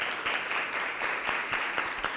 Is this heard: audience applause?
yes